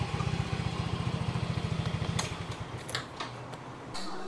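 A motorcycle being parked on a street in Penang, Malaysia, its engine thumping in a steady, fast idle rhythm close by for about two seconds before cutting out, leaving a few faint clicks and quiet street background.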